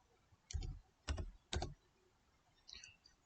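Three quick bursts of computer keyboard typing sound close and quiet against a low room hiss, with a fainter click near the end.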